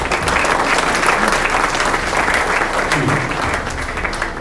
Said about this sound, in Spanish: Den un aplauso a la palabra de Dios.